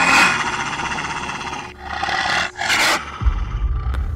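A huge dog growls low and rough in a dramatized story sound effect, a sustained loud snarl that breaks briefly, then resumes with a deep rumbling burst near the end.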